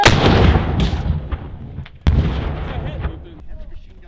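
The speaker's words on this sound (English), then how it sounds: "Rocket! Rocket! Rocket!" A rocket launched during a Marine Corps squad competition at Camp Pendleton bursts in a sharp, booming blast, followed by a second loud crack that rolls away outdoors. Shouting voices are heard around it.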